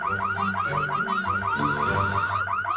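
Burglar alarm going off in The Sims 3 video game, a loud, continuous electronic warble cycling rapidly up and down in pitch without pause.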